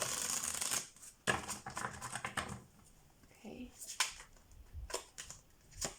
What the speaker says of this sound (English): I wanna shuffle the deck.